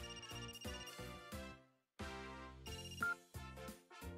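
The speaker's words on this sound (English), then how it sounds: "Phone's ringing." An in-game phone rings in Another Code Recollection, a repeating electronic ringtone melody in short bursts with a brief gap, loud and close, with no talk over it.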